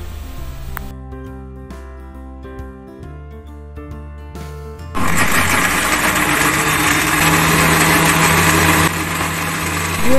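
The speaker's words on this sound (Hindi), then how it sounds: "कवर करके हम ब्लेंड करेंगे" A blender whirs loudly and steadily through mint, green chilies, yogurt, spices and water for a chutney. The blades start about halfway in, after a quieter stretch with tonal background sound.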